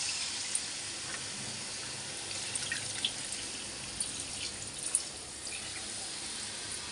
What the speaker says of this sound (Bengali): এবার ঝোলের পানিটা দিয়ে দেব।